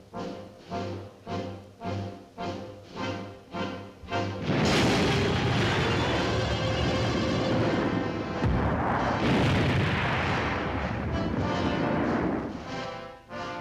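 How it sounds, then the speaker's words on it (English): A simulated atomic explosion during West Point summer military training, preceded by a rhythmic series of pulsing thumps, then a massive sustained roaring blast that rumbles loudly for several seconds before swelling again and fading. "All of us wait for the simulated atomic explosion, which will signal the beginning of the day's advance."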